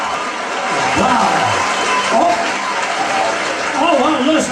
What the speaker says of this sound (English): Oh, well, listen to that applause.